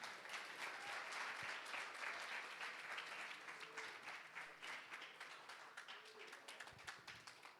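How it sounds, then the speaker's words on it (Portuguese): A congregation at a church gathering claps together in sustained, dense applause, steady at first and thinning slightly toward the end, heard from a little distance. "Vamos aplaudir a Jesus?"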